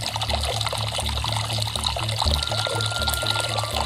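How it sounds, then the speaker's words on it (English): A tight stream of water pours into an induction can, giving a loud, continuous splashing and gurgling rush with an uneven pulsing churn underneath and no voices. "the stream of water is nice and tight as it enters our induction can"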